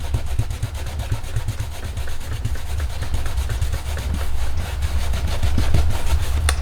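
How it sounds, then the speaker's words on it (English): Colors being rubbed and blended on a vintage Christmas card, a close, steady rhythmic scratchy rubbing that continues throughout without talk. "I'm just going to rub this and just kind of blend everything together"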